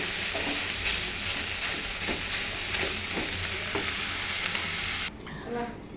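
Bottle gourd leaves stir-fried in a pan, a steady hiss of sizzling with soft scraping as the greens are turned over slowly, continuous and fairly close before abruptly dropping away near the end.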